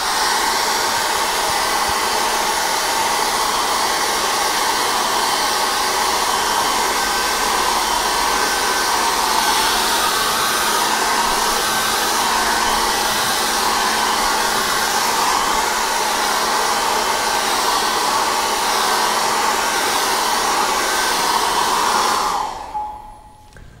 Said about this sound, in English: So after you've dried your canvas